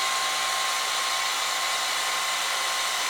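A universal cylindrical grinding machine runs at 250 RPM with oil in it, giving a constant, even whirring hiss with a faint steady tone, close and unbroken throughout.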